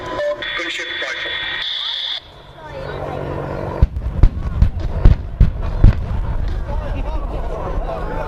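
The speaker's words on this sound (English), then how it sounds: "Gunship cleared hot, tipping in rockets." Simulated rocket-strike pyrotechnics fired for an Apache attack helicopter display at the Duxford air show, with a run of sharp, booming bursts over a continuous loudspeaker commentary voice and outdoor crowd noise.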